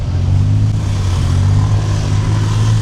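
A tuk-tuk engine revs loudly close by throughout, a low throbbing rumble with no break, in Thailand.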